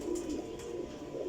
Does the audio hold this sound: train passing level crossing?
no